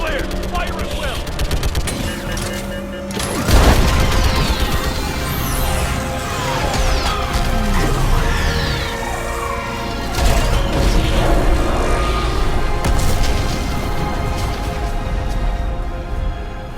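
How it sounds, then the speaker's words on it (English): Orbital strike explosions in Mass Effect 3 boom and rumble through dense gunfire and mechanical combat noise, loud and continuous, with voices talking over the battle. "I need an orbital strike. We're clear. Fire at will."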